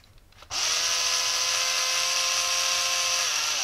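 A 20 V cordless drill powered by a 3S 18650 battery pack with a BMS module spins up abruptly from quiet and holds a steady, high whine for several seconds, close and alone.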